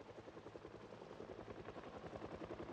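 Helicopter in the video game Project Zomboid, a steady rhythmic rotor chop with a low pulsing thump, fairly faint and continuous throughout with no talk over it.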